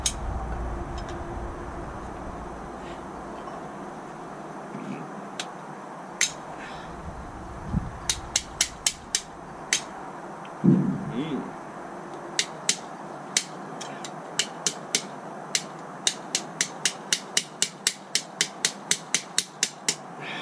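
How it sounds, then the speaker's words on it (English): Sharp plastic-hammer taps ring out against a metal ABS exciter ring being fitted to a trailer hub, scattered at first, then coming in quicker bursts of repeated strikes over a quiet background. "Plastic hammer."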